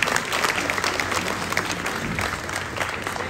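Audience applause for the school custodians at an elementary school winter chorus concert: steady, dense clapping from a crowd filling the whole few seconds.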